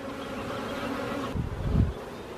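A steady, dense insect buzz of many honeybees around a hive, with a brief louder low rumble near the end.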